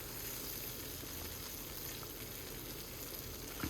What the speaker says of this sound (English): now I'm going to start mixing it into the stir fry.